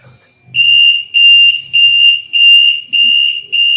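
A buzzer on a drowsiness-detecting helmet that monitors pulse sounds off in loud, shrill, evenly spaced beeps, about six in a row, each roughly half a second long, close to the microphone.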